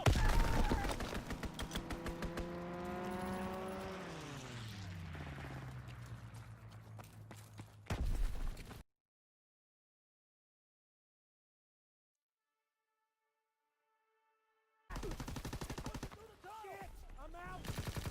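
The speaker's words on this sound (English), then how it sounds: "Strafing run inbound." Machine-gun fire from a strafing aircraft in a WWII video game, rapid bursts over a descending engine whine, loud and close, then a stretch of silence before more gunfire resumes.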